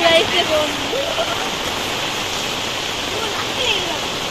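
Continuous rushing water, like a nearby stream or runoff, with a voice speaking briefly over it.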